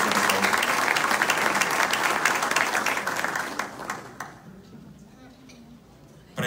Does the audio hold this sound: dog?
no